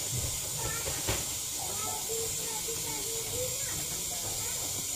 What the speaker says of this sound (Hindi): देखो गाइस पानी उबल गया